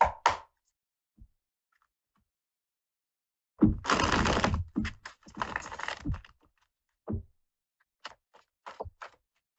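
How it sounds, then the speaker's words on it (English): Tarot cards being shuffled during a psychic reading, heard as a close, dry burst of riffling and flicking for a couple of seconds, followed by a few scattered taps and card snaps, with no voices. "Oh, I love when they shuffle like that."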